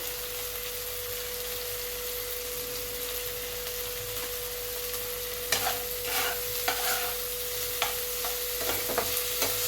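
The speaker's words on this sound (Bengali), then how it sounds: "ভালো করে ভাজা করে নিচ্ছি টমেটোটাকে" Tomatoes with turmeric frying in a pan, a steady close sizzle with a constant hum running throughout, joined in the second half by several scraping stirs.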